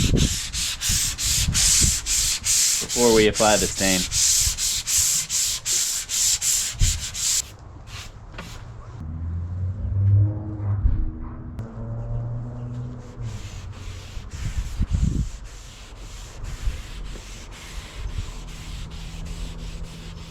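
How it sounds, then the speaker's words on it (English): Rapid, rhythmic scratching strokes of 220-grit sandpaper rubbing by hand across a wooden fireplace mantel beam, loud and close, pausing while a person speaks briefly, then resuming with softer, lighter strokes. "I'm gonna give everything a nice light hand sanding with some 220 grit now,"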